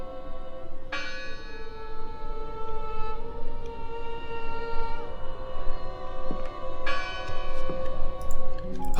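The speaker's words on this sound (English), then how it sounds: "I heard the bell." A church bell rings in the video game Draugen, with two clear bright strikes whose long tones hang and fade over a steady low background hum.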